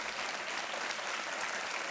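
Studio audience applause fills a Kaun Banega Crorepati quiz show set after a contestant wins a prize, a dense, even burst of many hands clapping for about two seconds.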